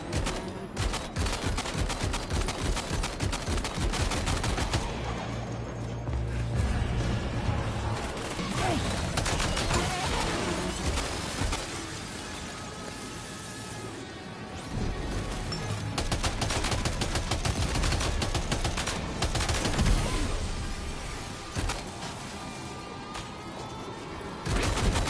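Dense video-game gunfire from Death Stranding 2 rattles in rapid bursts of automatic shots and heavier booms, loud and nearly continuous, with only brief lulls.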